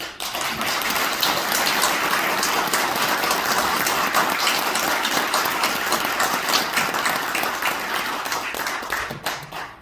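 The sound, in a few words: audience applause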